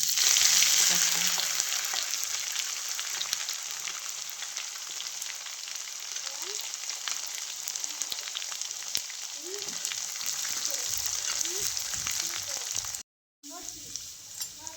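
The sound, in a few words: spices sizzling in hot oil tempering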